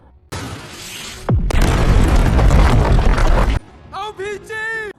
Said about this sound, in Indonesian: salah satu anak buahnya Umar menggunakan basoka